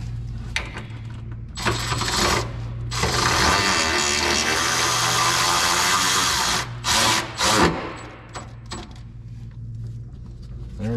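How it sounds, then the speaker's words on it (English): An impact wrench runs a nut up snug on a Ridetech lowering kit being installed on a 2020 GMC Sierra 4WD, giving several loud, close bursts of mechanical rattle, one long sustained run in the middle, with shorter spurts before and after and no talk. "And I'm gonna run it up with my impact actually"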